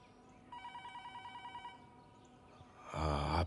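A telephone rings in a steady repeated trill for about a second, then falls quiet before a loud burst of noise at the end.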